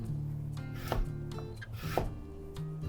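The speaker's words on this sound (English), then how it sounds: "slice the onion" A knife slicing an onion on a cutting board for Japanese ketchup spaghetti, with a few soft crisp cuts and board taps spaced about a second apart, close and quiet, with no talking.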